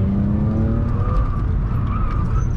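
BMW E36 320i Coupe engine working hard during sport driving on a curvy track, a steady loud drone with rising and falling pitch throughout, close and continuous with no talk over it.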